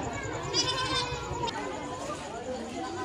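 Goats bleat in short harmonic cries at an animal attraction that also keeps tigers, rising over the steady chatter of a crowd and children's voices.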